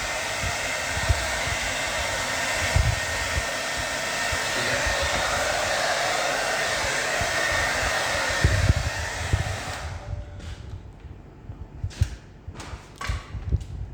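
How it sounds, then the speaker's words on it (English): A hair dryer drying a wet soil sample for a liquid limit test blows with a loud, steady roar for about ten seconds, then shuts off, leaving a few soft thuds and knocks. "we need to make it dry by hair dryer as per the standard"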